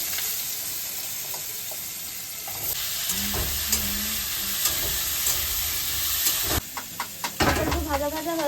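Potato pieces fry in hot oil with panch phoron, green chillies and salt, giving a loud, continuous sizzle with scraping stirs and spoon clinks near the end.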